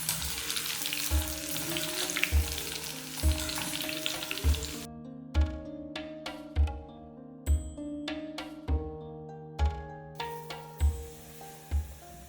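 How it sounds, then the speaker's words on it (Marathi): Boondi droplets of batter fry in hot oil over a high gas flame, giving a steady sizzle for the first few seconds before rhythmic music with regular beats takes over and the frying fades into the background. "गॅस मी मोठाच ठेवते आहे आणि ही बुंदीसुद्धा आपण छान तळून घेऊ"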